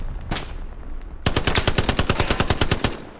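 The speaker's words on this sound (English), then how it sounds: "Fucking machine gun." Rapid machine gun fire in the video game Hell Let Loose, a scattered shot or two first, then a loud, fast, evenly spaced burst running to the end.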